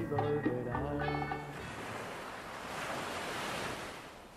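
Sea waves wash onto a sandy beach at Caleta Coloso, a continuous hiss of surf with gusts of wind across the microphone, preceded by a short stretch of tonal sound at the start.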